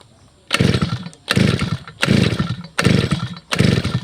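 A small two-stroke grass cutter engine that is hard to start, with a freshly cleaned carburetor, sputters in repeated short bursts, about five pulls that catch briefly and die, loud and close.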